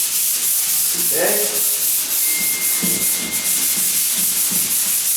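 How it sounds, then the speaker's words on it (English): Sandpaper rubs a wooden door by hand in steady up-and-down strokes, a continuous close, loud scratchy hiss with no talking. "I like to generally sand up and down, but at the edge I may have to go like that"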